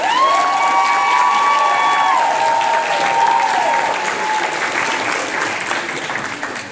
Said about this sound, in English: And a round of applause to the tireless Janet